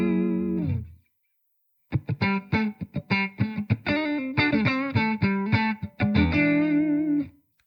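An electric guitar played through a budget effects pedal with a touch of studio reverb, first a single sustained chord that fades to silence, then a lively run of picked notes and short chords, close and clear.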